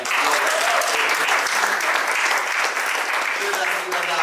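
Steady, dense applause from a church congregation at the Hafenkirche in Brunsbüttel, a close, loud wash of many hands clapping that fills the whole stretch without pause.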